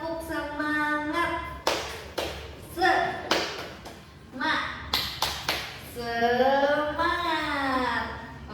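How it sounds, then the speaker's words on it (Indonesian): A small group performs the rhythmic "tepuk semangat" clapping ice breaker in a counseling class session, with bursts of sharp claps in patterned rhythm alternating with sung or chanted voices, loud and close. "Tepuk semangat."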